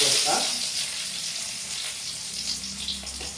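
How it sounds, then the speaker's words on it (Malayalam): Finely chopped small shallots frying in hot oil right after mustard seeds have popped, giving a steady, close sizzle with light stirring throughout. "കടുക് പൊട്ടിക്കഴിഞ്ഞതിന് ശേഷം ചെറിയ ഉള്ളി അരിഞ്ഞതാണ് ചെറിയ ചെറിയ കഷ്ണങ്ങളായിട്ട് അരിഞ്ഞ്"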